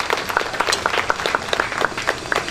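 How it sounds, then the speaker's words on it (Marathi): An audience claps and applauds at a gathering honouring Muslim friends, a dense, steady patter of many hands lasting a couple of seconds, fairly loud and near. "त्यांच्यासाठी एकदा टाळ्या साहेब"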